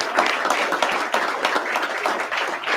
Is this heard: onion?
no